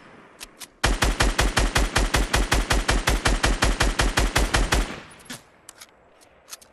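A long automatic burst of about two dozen rapid, evenly spaced gunshots rings out loud and close in a squad battle video game, followed by a few scattered distant shots.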